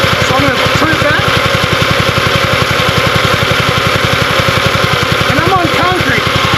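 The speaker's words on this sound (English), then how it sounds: "I can see the motor's trying to surge" A Revolution reel mower's motor runs in a steady, rough idle that pulses rhythmically as it tries to surge, loud and close throughout, with brief whining shifts near the start and end.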